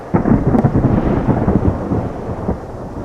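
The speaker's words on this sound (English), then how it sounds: "Then a growl of thunder came." Low thunder from a distant storm rumbles continuously under steady rain, a deep rolling growl that swells and fades without a sharp crack.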